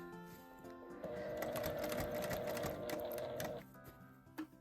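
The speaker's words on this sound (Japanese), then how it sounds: "縫い代が重なっているところはこのように手回しでミシンを送っても良いです" A sewing machine stitches a makeup bag with a steady, loud mechanical hum and rapid needle clatter for about two and a half seconds, starting and stopping abruptly, with faint handling clicks around it.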